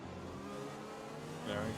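Formula 1 cars in the F1 2020 racing game at the Mexico Grand Prix give a steady, fairly quiet engine drone, with a brief rise in pitch near the end.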